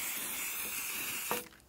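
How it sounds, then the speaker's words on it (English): Aerosol can spraying chalk paint onto washed glass jars for a decoupage craft: a continuous close hiss that runs almost the whole time, then cuts off with a small clatter at the end. "we'll spray it with some chalk paint"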